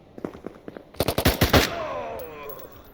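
Gunfire in the tactical shooter Door Kickers 2: a few scattered shots, then a loud rapid burst of automatic fire for about half a second, trailing off into reverberant echo.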